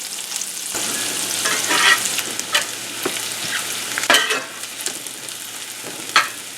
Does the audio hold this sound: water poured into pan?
no